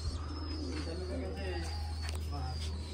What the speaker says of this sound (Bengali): এই পায়রা আজ উঠছে, এই আমাদের পায়রাও আজ উঠছে।